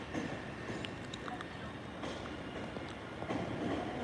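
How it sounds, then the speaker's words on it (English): An MBTA Orange Line subway train rumbles steadily through an underground station, a continuous broadband roar with faint rail clatter and brief high squeals, no talking. "We got our infamous Orange Line train now."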